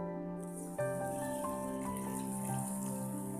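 Water is poured over broken wheat in a bowl to soak for dosa batter, a steady splashing rush that holds for about three seconds over a faint tonal background.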